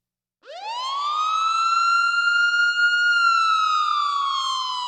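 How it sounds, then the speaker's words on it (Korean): An air raid siren wails across Seoul, rising from silence into one loud, steady, sustained tone rich in harmonics, then slowly drooping in pitch as it keeps sounding, with no voices. "서울 전역에 사이렌이 울립니다."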